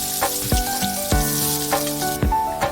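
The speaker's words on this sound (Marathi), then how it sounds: "तापलेल्या तेलात कांदा भाजून घ्या." Onion frying in hot oil for pav bhaji, a steady close sizzle with periodic sharper taps and clinks of a utensil stirring the pan, no voices.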